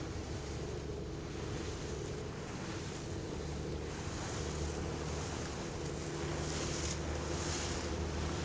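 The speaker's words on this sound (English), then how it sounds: "The boat's moving faster now." Continuous wash of ocean waves and wind as a boat moves across the water off Alaska, with a low engine hum underneath and no talking.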